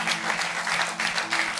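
A studio audience in a talk-show hall applauds, brisk, dense clapping that is loud and close with no pause.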